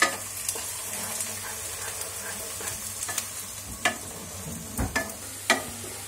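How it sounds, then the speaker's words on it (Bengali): Onions fry in a pan with a quiet, steady sizzle, punctuated by occasional sharper scrapes and knocks of a stirring spoon, louder toward the end. "তো পেঁয়াজটা ভাজা ভাজা হয়ে গেছে"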